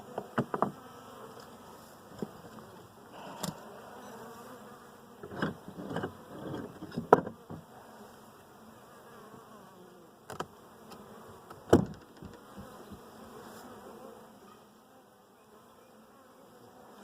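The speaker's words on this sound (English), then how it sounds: "Bees up top." Honey bees buzz around frames lifted from a strong hive, a steady close drone of many wings with occasional sharper passes and taps, and no voices.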